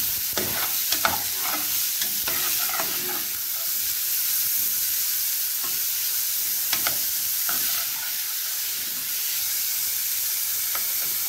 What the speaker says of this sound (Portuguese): vou deixar ela dar uma douradinha